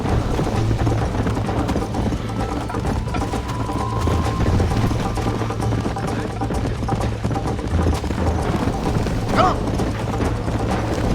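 A horse gallops in Red Dead Redemption, steady rhythmic hoofbeats carrying through the whole stretch under mechanical game noise, with a voice speaking briefly.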